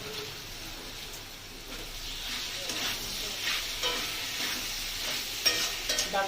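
Ridge gourd dal with sugar being sautéed in a pan, a soft steady sizzle with intermittent stirring scrapes that grow slightly louder toward the end.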